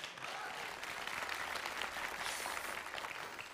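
Audience applause welcoming a singer onto the stage at a televised variety show, a steady, even wash of clapping that carries through the whole moment without a break.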